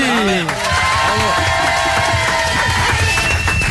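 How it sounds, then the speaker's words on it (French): A studio audience at a French radio show cheers and applauds in a loud, steady wash of crowd noise, with voices calling out over it. "Est-ce qu'on pourrait applaudir le public Morissette?"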